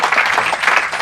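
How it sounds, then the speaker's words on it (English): Audience applause at a mobile photography interview event, a dense, steady wash of clapping from many hands that fills the whole second without a break. "Give another big round of applause to him."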